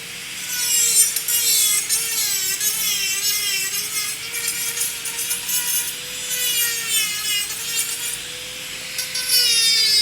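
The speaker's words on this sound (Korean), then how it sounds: "그럼 제가 이제 풀릴라이닝을 해야 되니까 얘를 깎아 볼게요." A handheld dental bur grinds down a temporary tooth crown before relining, producing a loud, close, high-pitched whine that wavers steadily as the bur shaves material, with no talking.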